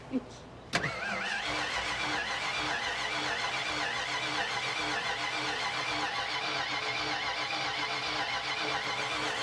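A Mustang project car engine cranks on the starter without firing, a steady mechanical churn that begins after a sharp click and runs on loud and close, with voices nearby.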